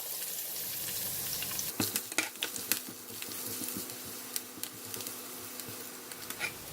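Chopped ginger and garlic hit hot oil already spiced with cardamom, clove, curry leaves and fennel seed, giving a steady loud sizzle with scattered crackles and sharp pops, plus a few stirring scrapes, no voices.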